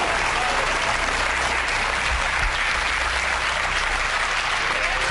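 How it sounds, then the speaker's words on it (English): Studio audience applause on a 2004 Channel 4 UK game show, a dense, steady wash of many hands clapping at full strength throughout, with no voices over it. "Round of applause, please."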